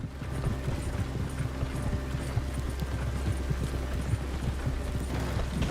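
Steady walking hoofbeats of the horse Jenny in Red Dead Redemption 2, rhythmic clip-clop thuds continuing for several seconds over a low rumbling ambient bed, with faint creaks from tack or a cart.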